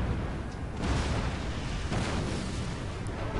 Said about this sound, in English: He's got some artillery shooting at my square